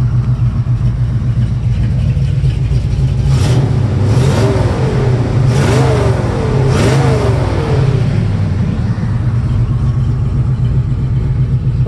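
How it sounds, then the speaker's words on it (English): A 1968 Chevrolet C10 pickup built as a hot rod, its engine running loud and close with a steady lumpy lope, rising briefly in a few short revs in the middle before settling back to idle. "It's got that decent lope sound to it at, you know, low idle"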